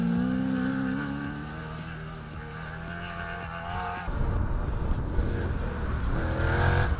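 The 93 race car's engine sounds at the ARB Pines Enduro 400 off-road rally, a loud, close engine holding a steady drone before shifting abruptly into a rougher, harder-revving roar.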